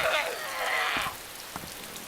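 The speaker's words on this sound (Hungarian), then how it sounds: "Itt az eső." Steady rain falls in the survival video game DayZ, a dense hiss for the first second that fades to a quieter patter, with faint thuds afterward.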